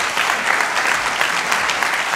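A crowd at a martial arts event claps steadily and fairly loudly, a dense wash of applause that continues throughout.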